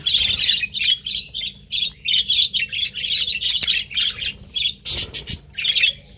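Pet birds in a breeding colony squawk and chirp continuously, loud bursts of calls overlapping one another in quick succession with no talk.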